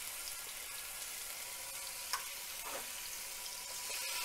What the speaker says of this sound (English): I'm going to start frying up our little strips of venison